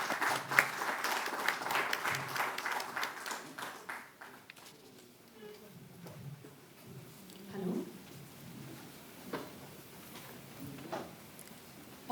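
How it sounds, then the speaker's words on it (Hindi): An audience at a Delhi tourism app launch claps in dense, loud applause for about four seconds. It then fades into a quieter hall with scattered murmurs. "तालियों से आप अभिनंदन करें"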